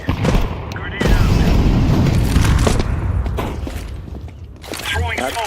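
A grenade blast in Counter-Strike 2 lands as a loud, close boom with a rumbling tail, surrounded by other in-game gunfire and effects while a player talks over it.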